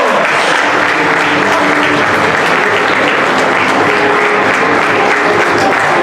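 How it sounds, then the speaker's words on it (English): Loud, sustained applause from a large crowd, dense steady clapping filling the whole stretch without a break. "A big round of applause"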